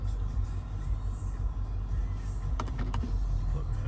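Electric sunroof blind of a 2018 Range Rover Sport SVR P575 V8 with panoramic roof motoring closed, a steady low motor hum inside the cabin with a few faint clicks near the end as it stops.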